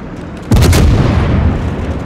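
Warship main guns fire a single heavy salvo in World of Warships, a sudden loud boom after a brief quiet lead-in, followed by a rumbling decay.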